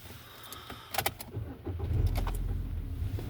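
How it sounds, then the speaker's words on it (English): A car engine cranks and catches after a few clicks and rattles, then settles into a low idle rumble close by. "Every time the vehicle starts"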